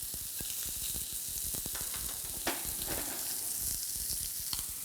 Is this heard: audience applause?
no